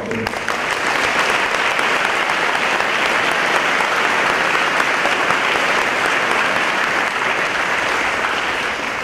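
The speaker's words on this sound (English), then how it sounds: "So I give the governor a round of applause." A school assembly audience on veteran homelessness gives the governor a dense, loud round of applause that holds steady and unbroken for about nine seconds.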